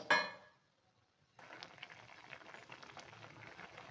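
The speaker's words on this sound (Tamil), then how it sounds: "இப்போ இது நல்லா கொதிச்சுன்னு இருக்கு" A sharp clink at the start, a short silence, then the soft steady bubbling of boiled moong dal and chana dal simmering in a pot.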